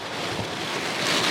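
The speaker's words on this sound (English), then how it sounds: "That's the water kicking through the channel here." Rushing, turbulent water surging through a channel at Port Canaveral in severe weather, a steady broadband roar blended with wind buffeting the microphone, continuous and close throughout.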